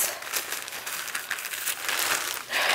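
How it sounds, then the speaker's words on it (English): A plastic bag crinkles and rustles up close as an item is wrapped for shipping, a continuous crackly handling sound with small sharp bursts and no talk. "I'm going to put it in a plastic bag just because I don't want it to get wet"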